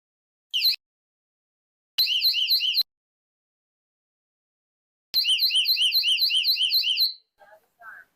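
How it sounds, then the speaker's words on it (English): An IQ 4 alarm panel's add-on siren sounds in loud electronic warbling bursts: a short blast, a longer one, then a sustained wail, with a faint chirp at the end and silence between. "we're going to get the second alarm going off here"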